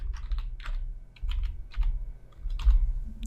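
Password typed on a computer keyboard, a quick run of crisp, close key clicks in uneven bursts with no voice.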